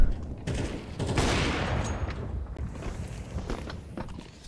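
Gunfire in a Counter-Strike match during a professional esports league game: loud, rapid bursts of shots crackle over a dense, noisy background, with the firing rising and falling in short clusters.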